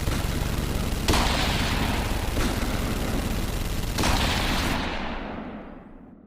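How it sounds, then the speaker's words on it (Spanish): A long, dense burst of gunfire from an ambush at Pasaia bay roars without pause, with sharper bursts flaring up twice before it fades out at the end. "2 segundos más tarde suena una ráfaga de disparos interminable."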